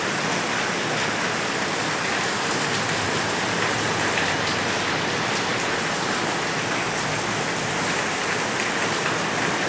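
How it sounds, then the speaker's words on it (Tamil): Steady rain falling outdoors, easing off from a heavy downpour, a dense even hiss of drops on surfaces that runs unbroken and fairly loud throughout with no voices. "இப்போ கொஞ்சம் ஸ்லோப் ஆகிடுச்சு நண்பா, மழை கொஞ்சம் ஸ்லோப் ஆகிடுச்சு"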